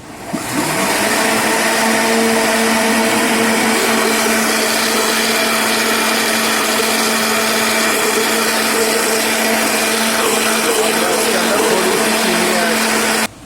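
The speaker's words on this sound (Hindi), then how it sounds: "मैं ग्राइंडर को 1 मिनट के लिए चला लूँगा" An electric kitchen grinder blends dried apricot chutney with a steady, loud whirring drone that runs unbroken for the whole stretch, nearby and alone.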